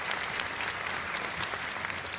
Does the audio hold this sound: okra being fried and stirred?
no